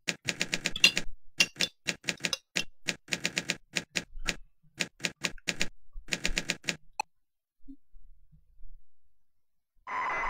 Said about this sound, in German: das ist noch eine gute alte IBM-Tastatur